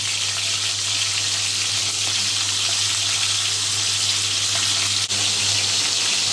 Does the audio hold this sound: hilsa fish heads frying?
yes